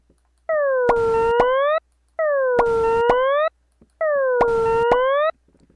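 Three identical synthesized tones sweep down and back up in quick arcs, each with a broadband pop or burst at its middle, separated by brief silences.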